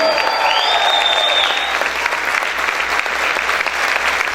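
Loud, sustained applause from a church congregation praising the King, dense steady clapping with cheering voices and whistles filling the whole stretch.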